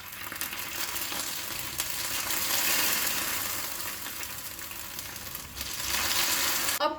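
Caramelized sugar hisses and sizzles steadily as it is poured slowly into a pot of kheer, a loud continuous frying crackle that swells midway and flares again near the end, with no voices.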